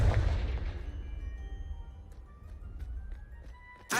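A Confringo spell blast in the Hogwarts Legacy video game opens with a loud, booming burst that decays into a rumbling tail, and a second sharp burst hits near the end.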